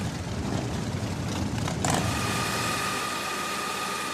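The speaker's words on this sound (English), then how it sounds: "But the real test of a Harley is what it sounds like." A Harley-Davidson motorcycle engine runs steadily nearby, a dense, rumbling idle with a brief mechanical click partway through.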